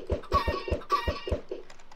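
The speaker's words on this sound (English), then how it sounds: "Oh, two baby chickens." Minecraft chickens cluck in a quick series of short, bright clucks in an uneven rhythm, fairly close and clear, trailing off near the end with no talk over them.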